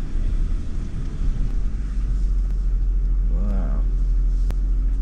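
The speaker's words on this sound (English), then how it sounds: "it's on terrain progress control, which is giving me a constant little speed as we go up these ruts" A Land Rover on terrain progress control creeps up muddy ruts off-road, its engine holding a steady, low rumble at a constant slow speed throughout.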